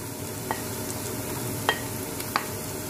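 Salted onions soften in a pan with garlic, giving a low, even frying hiss throughout, with three faint utensil taps scattered over the sizzle.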